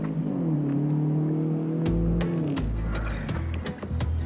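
Electric skateboard with a dead battery braking: a motor whine that holds steady, then slides down in pitch and stops, followed by faint mechanical ticks and clicks, no voices.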